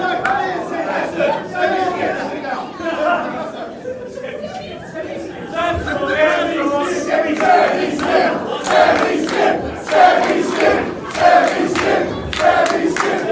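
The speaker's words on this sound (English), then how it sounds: "a crowd chanting semi-skimmed" An independent wrestling show crowd chants in rhythmic unison, loud and roomy, with shouting and chatter mixed through the chant.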